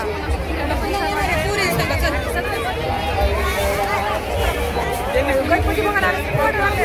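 Dense crowd chatter at the Khandeshwari temple fair, a steady loud babble of many voices with footsteps and bustle, heard up close and continuous.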